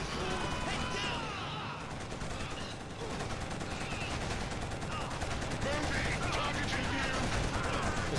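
Automated turrets in Killzone pour out sustained rapid machine-gun fire amid heavy battle noise, with a voice talking over the clatter.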